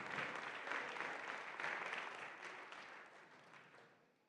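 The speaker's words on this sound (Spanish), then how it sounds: "Give God a round of applause." Faint, dense applause from a church congregation giving thanks to God, a steady wash of clapping that fades out toward the end.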